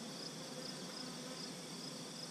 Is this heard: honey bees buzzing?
yes